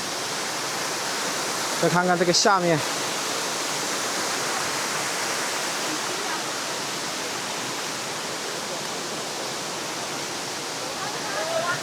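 Waterfall on the Shizhu Peak hike in Hunan, roaring as a steady, loud broadband wash throughout, with a short burst of speech near the start and a faint voice at the end.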